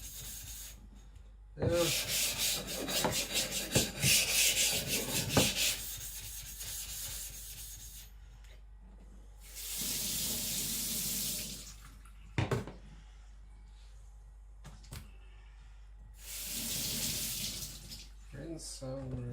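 A steel blade rubbed back and forth on a wet sharpening stone to flatten it, loud gritty scraping strokes in three separate bursts, with running water rinsing between them and one brief spoken word.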